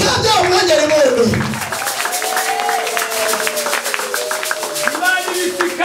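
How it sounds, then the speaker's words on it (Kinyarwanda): Congregation in a church clapping, fairly rapid rhythmic claps continuing beneath a sustained sung or spoken voice for several seconds, close and moderately loud. "Tumukomere amashyi umwongere mu"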